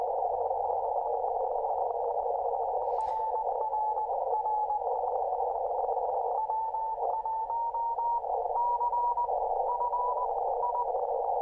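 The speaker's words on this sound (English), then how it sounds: "That's some very fast CW." Fast CW Morse code comes through a Yaesu FTdx-10 ham radio as a steady sidetone, an unbroken stream of quick keyed beeps over a constant band of noise, moderately loud and close, with no talking.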